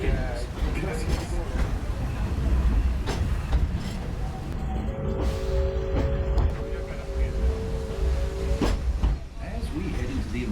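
The Walt Disney World steam railroad train runs with a steady low rumble and rolling rail noise, while a recorded announcement plays over it.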